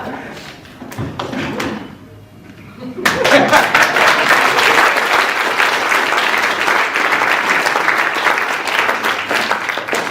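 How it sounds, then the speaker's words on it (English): Loud, sustained audience applause at a debate contest as contestants stand, a crowd of hands clapping steadily after a brief quieter stretch with voices near the start. "Give a huge round of applause."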